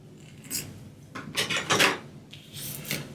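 Scissors snip through ribbon on a shabby chic tag pocket, a few quiet, close rasping cuts in short bursts with pauses between.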